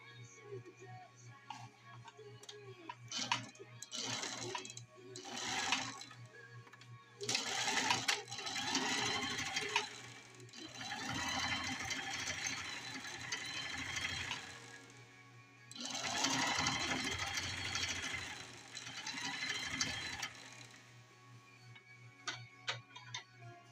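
Home sewing machine stitching fabric for shop aprons, running in several bursts of rapid mechanical whirring separated by pauses with ticks and handling clicks, with faint radio-like background sound.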